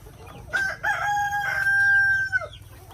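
A rooster crows loud and close, a long drawn-out call from fairly large chickens in a partitioned chicken range, with faint clucking and low farmyard rumble underneath.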